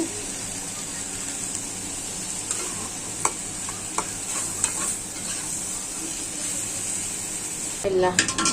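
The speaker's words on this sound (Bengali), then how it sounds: "বড় সড়ো একটা কড়াই নিয়ে পেঁয়াজটা বেরেস্তা করা হয়ে গেছে" Onions fry in oil in a large wok for noodles, giving a loud, steady sizzle throughout with scattered stirring clicks and a brief clatter near the end.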